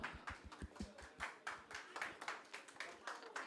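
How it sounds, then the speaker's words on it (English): Scattered audience clapping at an inter-college startup event, distinct individual claps in an uneven rhythm, fairly quiet and close, with no other sound over it. "A huge round of applause for Ms. Sneha Paul."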